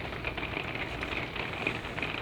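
Rain falls steadily in New York, a soft, continuous patter with scattered drop ticks, fairly faint and without talk.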